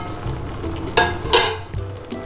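Ivy gourd thoran is stirred in a pan over medium flame, with a soft sizzle under a few scraping and clinking strokes of a spoon against the pan, close and fairly loud, no talking.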